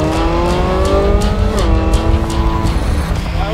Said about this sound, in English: It's the most like unique sounding car in the garage by far.